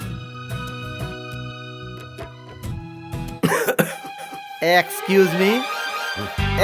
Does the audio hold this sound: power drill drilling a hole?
no